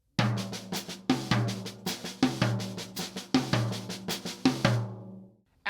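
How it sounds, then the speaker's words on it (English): A six-stroke roll played on tom-toms in triplet phrasing, two measures of steady accented strokes falling across the drums in a descending line, close and loud, ending with a decaying ring. "I'm going to play 2 measures of the 6-stroke roll, and I'm going to apply it to the tom-toms"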